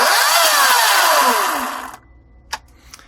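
Echo 58V cordless battery chainsaw with a faulty battery whirs up loudly and runs for a second or two, then spins down and stops, followed by a couple of faint clicks.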